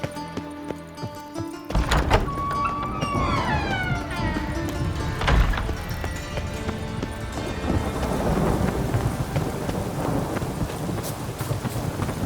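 Rain pours steadily in The Witcher 3 while loud thunder cracks and rolls repeatedly across the stormy game world, with a dense rushing downpour filling the whole stretch.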